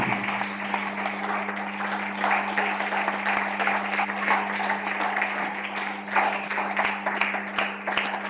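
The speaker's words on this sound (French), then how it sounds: "Clap the Lord for yourself in the name of Jesus." A church congregation claps together in a dense, sustained burst of applause over a steady low electrical hum, filling the room evenly with no clear pauses.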